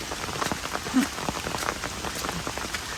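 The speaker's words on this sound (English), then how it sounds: "It's pouring rain." Steady rain pouring on a flooded Appalachian Trail in New York, pattering on a surface, with scattered louder drops breaking through the constant hiss; no one speaks.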